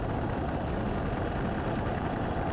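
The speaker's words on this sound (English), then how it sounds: "We're slowly advancing the throttle as we watch the engine instruments to make sure we've got" Small airplane engine at full takeoff power, a steady dense roar that holds at a constant level, close and loud with no voices.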